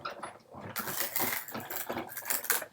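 A die-cutting machine grinds and crunches nearby in uneven bursts, with rattling, scraping pulses as felt is pressed and cut.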